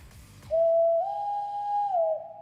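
A man imitates a loon call with his voice at a hockey game broadcast. It is a single long, pure, whistle-like wail that rises in pitch partway through and then drops at the end, loud and close with nothing else over it.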